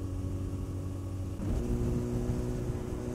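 Honda CBR1000RR sport motorcycle engine droning steadily while riding, a loud continuous mid-pitched hum that shifts tone slightly partway through as the revs change, with wind noise mixed in.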